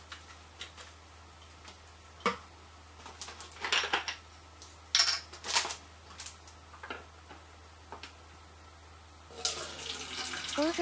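Water poured through a small 3D-printed mini funnel made for a Kikkoman soy sauce dispenser and threaded onto a plastic bottle, giving scattered ticks and short splashes, then a brief steadier trickle at the end.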